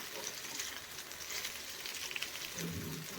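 Fish fries on a tava pan with a close, continuous sizzle, a bright crackling hiss scattered with small pops and spits throughout.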